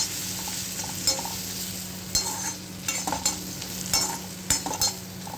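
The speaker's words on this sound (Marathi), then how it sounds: "बटर टाकलेला आहे मी याच्यामध्ये आणि हे मी याला थोडं फ्राय करून घेते" Chicken pieces sizzle steadily in butter in a pan, a constant frying hiss punctuated by clinks and scrapes of a utensil stirring every second or so, with no talking.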